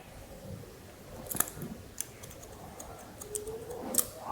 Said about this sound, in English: just bring this over and cut the temple into match